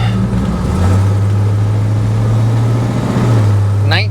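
A non-original 350 V8 in a 1970 Chevrolet El Camino pickup runs steadily with a low, even engine drone that holds throughout and dips slightly near the end, loud and close, with a brief higher sound at the very end.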